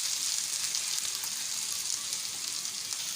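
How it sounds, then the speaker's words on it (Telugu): Chicken and onions deep frying in a pan for a chicken fry, a loud continuous bright hiss and crackle of hot oil held steady throughout, close up with no voices. "చికెన్ ఆనియన్స్ బాగా ఫ్రై అవ్వాలి, డీప్ ఫ్రై అవ్వాలి."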